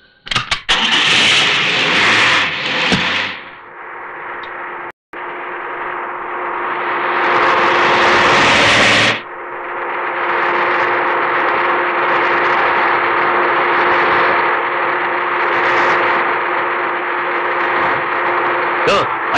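A vehicle engine in a 1994 Tamil film cranks and starts, revs loudly, cuts out briefly, then settles into a steady driving hum that continues alone for a long stretch.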